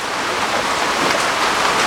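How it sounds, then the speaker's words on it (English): Heavy rain drums steadily on the roof of a camper van, a dense, even hiss of close, loud droplets that fills the space without pause and with no voices over it. "Holy crap, that rain's coming down hard now"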